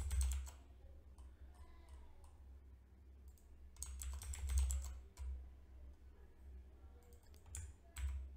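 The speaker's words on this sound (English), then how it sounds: "I'm pressing Ctrl D" Clicks and clacks of a computer keyboard come in bursts of quick keystrokes, close and fairly quiet, separated by pauses, over a steady low hum.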